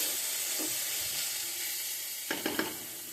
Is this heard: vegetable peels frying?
yes